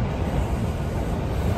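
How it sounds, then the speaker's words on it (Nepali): Small, short local train heading to Matsuyama in Japan: steady, dense rumble of the carriage in motion, constant and even throughout with no breaks or speech. "ट्रेनमा चढेँ होइन अहिले माचुयामा जाँदैछु"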